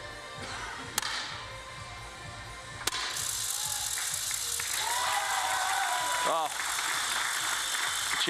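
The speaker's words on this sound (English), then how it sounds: "Cheer goes up. That's from the Austrian supporters." Supporters cheering at a men's shooting final at the European Shooting Championships in Tallinn: a crowd roar swells and holds under a commentator's voice, with a couple of sharp cracks beforehand.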